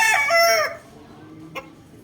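A gamefowl bull stag crows loudly and close, one long strained call that cuts off sharply, followed by a brief soft cluck against quiet surroundings.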